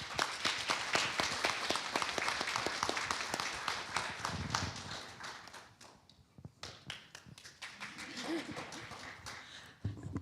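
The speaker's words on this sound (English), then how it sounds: "Can we give another round of applause for our lovely moderators and panelists?" Sparse audience at a community panel on racism applauding moderators and panelists, with individual near claps and taps, quieter and patchier halfway through before picking up again.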